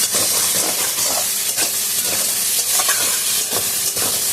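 Tomato, green chilli and garlic fry loudly in a pan, a dense continuous sizzle and hiss with repeated stirring scrapes at an irregular rhythm, close up and with no talk.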